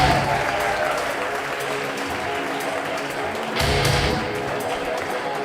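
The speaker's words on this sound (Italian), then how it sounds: "vi chiedo un forte applauso per il prossimo comico, Lorenzo Siciliano." Audience at a comedy show applauds for the next comedian, sustained dense clapping and crowd noise that holds steady throughout, swelling slightly near the end.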